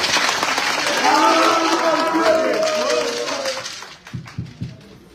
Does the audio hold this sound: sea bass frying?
no